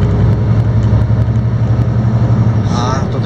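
Diesel engine of a new UD Quon truck heard from inside the cab at low speed with the throttle off and engine braking, a steady low rumbling drone with a faint whine, and people talking over it.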